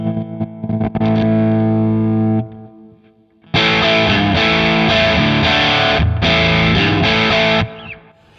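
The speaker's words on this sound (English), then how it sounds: "I hear brightness. I hear a different speaker than we had before, and I hear the more crumbly nature of the JTM 45 model." Electric guitar played through a JTM 45 amp model with a bright Mars Astra speaker impulse, giving a heavily distorted, crunchy tone. A sustained chord rings out, a pause follows, then a run of loud, chopped chords.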